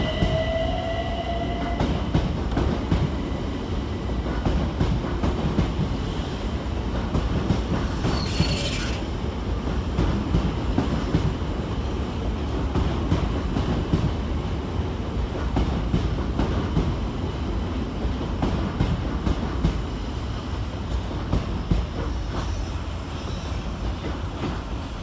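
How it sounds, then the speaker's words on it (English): Southeastern Class 376 electric trains departing London Cannon Street station, a steady loud rumble of rolling stock with wheel noise and a brief high squeal early on, continuous throughout. "Next out, two departees 376-007 and 376-021 with the 1023 Southeastern Circular Service to Slade Green"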